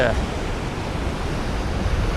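Waves breaking over a seaside pier make a continuous, loud broadband wash of surf, mixed with wind noise on the microphone, steady throughout without distinct separate crashes.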